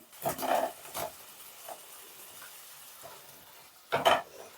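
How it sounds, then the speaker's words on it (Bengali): Fried okra being stirred into a pan with mustard-paste water. A spoon scrapes and turns the food in a few short bursts near the start and again near the end, with quiet pauses between them. "একটু মিশিয়ে নিচ্ছি"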